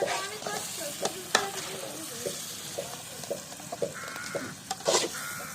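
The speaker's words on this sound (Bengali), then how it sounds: "দেখুন এই যে চলছে রান্না।" Food cooking in a village kitchen, a steady soft sizzle with occasional stirring clinks and scrapes, with some faint background calls.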